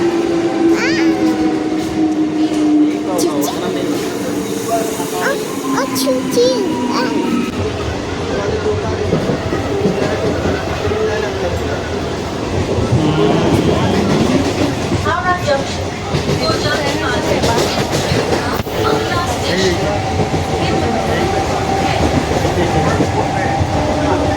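A train at Kanyagarh railway station in West Bengal, with a continuous rumbling rail noise and rolling clatter that grows rougher partway through, heard close and loud with people talking over it.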